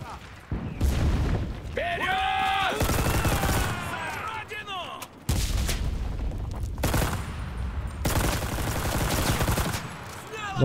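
Dense WW2-era gunfire in the shooter game Enlisted, bursts of rifle and machine-gun fire crackling almost nonstop over several seconds amid other battle noise, with someone talking over it.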